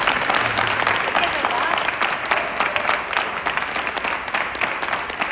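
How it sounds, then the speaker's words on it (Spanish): Sustained applause fills a press conference room, dense clapping from a seated crowd continuing steadily and fairly loud for several seconds with no voice over it. "Y realmente desde aquí quiero pedir un aplauso para Paco."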